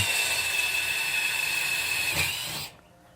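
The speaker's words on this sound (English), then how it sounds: "We're now drilling a bunch of holes to get so I can bolt it back on." A drill whines steadily with a high hiss for a few seconds while drilling holes in a metal grill door, then cuts off abruptly into near silence.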